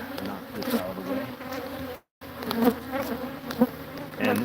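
Honeybees buzz steadily around an open beehive with frames of brood, a close, dense hum with some louder passes, broken once by a brief gap of silence.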